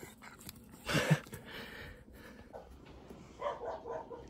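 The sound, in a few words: dogs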